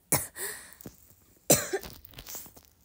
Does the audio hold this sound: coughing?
yes